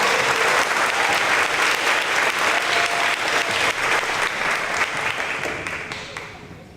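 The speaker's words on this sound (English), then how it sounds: "Give all of our students another round of applause." Sustained applause from an audience at a fifth grade school promotion ceremony, dense and steady clapping that carries on for several seconds before tapering off near the end.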